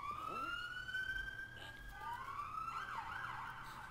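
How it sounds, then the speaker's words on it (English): Police car sirens wail continuously in the background, with rising and falling tones from more than one vehicle speeding past outside. "There goes two police cars speeding up."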